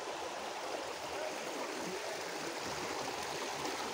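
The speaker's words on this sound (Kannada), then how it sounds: "ಸೊ ಕುಮಾರ ಪರ್ವತದಲ್ಲಿರುವಂಥ ವಾಟರ್ಫಾಲ್ಸ್, ಸೊ ಸಿಕ್ಕಾಪಟ್ಟೆ ನೀರು ಹರಿತಿದೆ" Heavy water pours down the waterfalls on Kumara Parvatha, a steady, unbroken rushing hiss that holds the same level throughout, with no voices over it.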